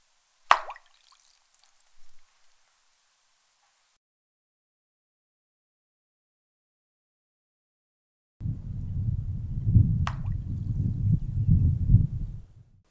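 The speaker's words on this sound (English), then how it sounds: "so the splashing sound is in perfect time with the heron's head" Foley water splashing for a heron striking at a fish: a sharp single plop early on, then after a long silence a sustained, close, churning splash lasting several seconds.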